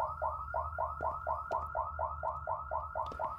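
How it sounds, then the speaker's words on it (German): An alarm system blares inside the video game Ghost Exile, with a loud, regular wailing pulse repeating about a dozen times in quick succession and no voices. "Ich muss erstmal die Alarmanlage ausmachen, die geht mir auf den Wecker."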